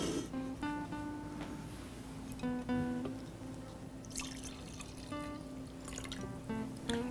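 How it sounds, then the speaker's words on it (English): Sangria poured from a pitcher into glasses, a steady liquid trickle and splash with faint drip-like tones running through the whole stretch, close by and moderately quiet, with a brief brighter splash midway. "Next, we're going to pour the sangria into our glasses."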